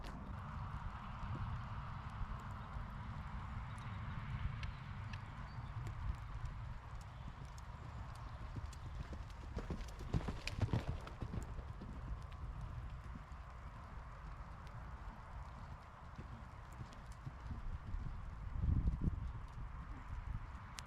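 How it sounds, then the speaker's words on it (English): Hooves of a horse named Cruz in a steady canter during a jumping session, a repeating three-beat clip-clop heard up close above a constant background rumble, with a brief louder thud near the end. "Here I was just trying to get a feel for his canter and try and count it out a little bit"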